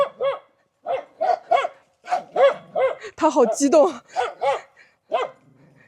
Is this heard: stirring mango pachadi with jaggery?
no